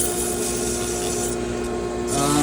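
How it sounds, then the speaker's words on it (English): Steady abrasive hiss of sandpaper rubbing a spinning wooden pepper mill on a lathe, loud and continuous, with the motor's hum running beneath and a slight shift near the end. "I'm going to go ahead and give that a little more sanding."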